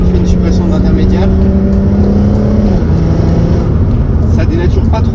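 An Audi TT 3.2 V6 with DSG gearbox and intermediate silencer removed drones loudly from inside the cabin, engine note holding steady then shifting pitch as it pulls through the gears, with someone talking over it.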